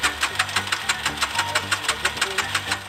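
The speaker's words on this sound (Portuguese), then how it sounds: "Liga a moto pra ele." A carbureted motorcycle engine starts and runs roughly up close, a fast, uneven chugging with sharp knocking pulses repeating steadily.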